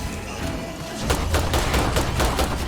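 Rapid revolver shots from a video game crack out in a dense run of loud, sharp reports, thickening after the first second over a steady game-world background.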